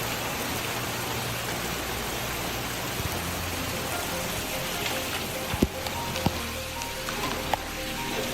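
Heavy hail pours down in a storm as a constant dense roar on roofs and streets, with a few sharper, louder impacts standing out near the end.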